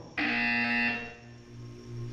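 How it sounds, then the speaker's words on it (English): A buzzer from the video game Portal 2 sounds once, a loud sustained electronic tone lasting under a second, then drops to a quieter hum. "When you hear the buzzer, look down at the floor."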